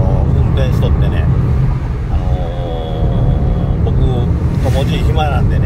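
Car interior while driving, a steady road rumble and engine hum running throughout, with people talking over it.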